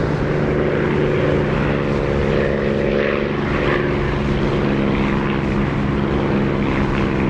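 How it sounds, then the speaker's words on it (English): A Spitfire's piston engine drones steadily in the DCS flight simulator, loud and close with a constant propeller hum that holds an even pitch throughout with no talking. "It's Echo 19 Spitfire engine sounds beautiful."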